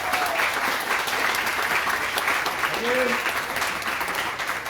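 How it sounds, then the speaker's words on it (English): Audience applause after a talk fills the room as a steady, dense wash of clapping throughout, with a brief voice cutting through near the end. "let's give Jordan one more round of applause"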